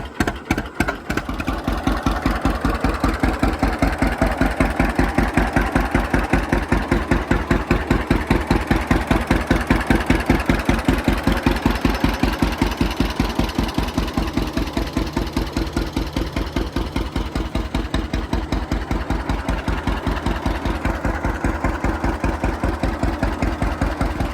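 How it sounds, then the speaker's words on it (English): An old John Deere A tractor engine idles steadily close up, a loud, even chugging pulse with a fast regular beat that holds for the whole stretch, no voices. "It's a really pretty good running old tractor."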